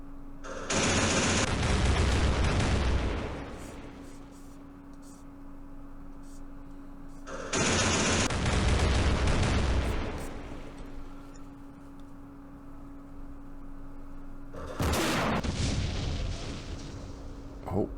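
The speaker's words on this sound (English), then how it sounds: "There's anti-aircraft back there." Anti-aircraft gunfire in the Campaign Series Middle East war game: three separate bursts of heavy, rumbling firing, each lasting a couple of seconds and fading out. The bursts come several seconds apart over a low steady hum.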